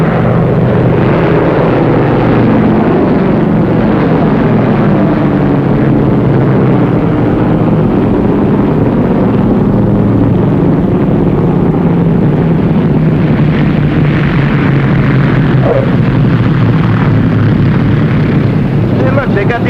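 Propeller airplane with full flaps descending to land, a loud continuous engine drone close by that slowly lowers in pitch as it comes in.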